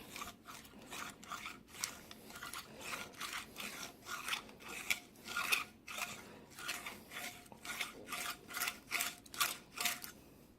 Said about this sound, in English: Now, I'm going to take the little flaring tool, came with it, deburr, work my way around in it.